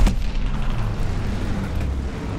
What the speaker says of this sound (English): Allied forward bombing run!